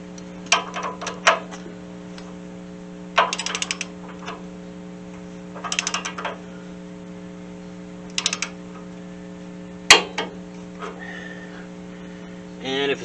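A ratcheting wrench clicks in short bursts while tightening a Dana 60 ball joint to torque, several quick series of sharp ticks separated by pauses over a steady electrical hum.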